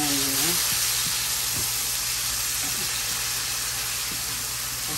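Onions sautéing in a frying pan beside salmon, a loud, dense, continuous sizzle and crackle close by, with faint stirring under it and no talk.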